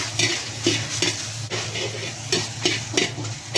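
Tomatoes sautéed in a dry pan without oil give a steady close sizzle, and rhythmic scraping stir strokes come roughly every half second, loud and alone.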